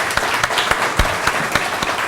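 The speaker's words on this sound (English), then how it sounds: "I would ask you to please give them all a round of applause this evening." An audience at an evening talk on presidential women applauds its guests, a steady, moderately loud patter of many hands with a few sharper individual claps standing out.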